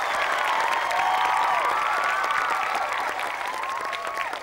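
Steady applause from a live audience welcoming a young shadow-puppet (nang talung) performer onto a Thai stage, dense and sustained throughout with faint crowd murmur and whistle-like tones beneath, easing slightly toward the end.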